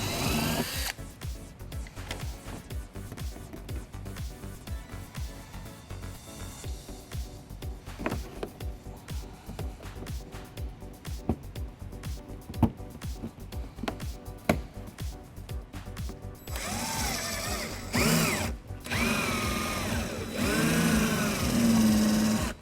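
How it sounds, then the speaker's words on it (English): A small drill bores out plastic rivets on a 2010 BMW X5 during a trailer hitch install, giving a rapid, rattling buzz close by that ends in a steadier, louder whirr. "we're going to drill out the center of it using a small drill bit and then pop it out using a trim panel tool"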